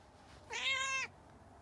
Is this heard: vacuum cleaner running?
no